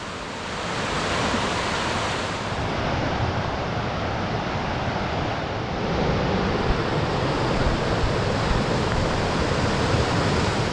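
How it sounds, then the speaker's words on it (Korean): Steady rushing water from a mountain stream in Yongchu Valley, Gapyeong, loud and continuous throughout, a dense, even roar with no other sounds. "청량한 계곡 물소리에 푹 빠져버렸어요"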